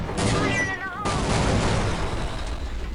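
An automatic shotgun fires in the online shooter Counter-Strike Online: a sustained, loud, dense roar of rapid blasts with a sharp renewed burst partway through and faint whistling tones early on.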